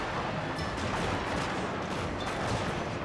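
Musket volleys crackle across a land battle in the video game Total War Shogun 2, a dense, continuous rattle of overlapping gunfire at moderate distance that holds steady throughout, with no talk.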